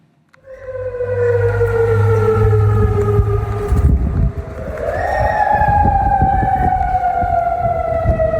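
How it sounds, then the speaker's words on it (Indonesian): Loud air-raid sirens wail over a city during a missile attack. Their steady rising and falling tones overlap and hold for the whole stretch, with a low rumble underneath. "sirine meraung di kota aman"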